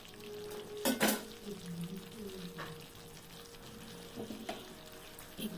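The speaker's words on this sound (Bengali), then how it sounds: "একটু খানিকক্ষণ ফুটে নিয়ে" A pan of curry made with coconut milk and milk bubbles and simmers, with a soft continuous sizzling bubble and a couple of brief utensil clinks near the start, close and fairly quiet.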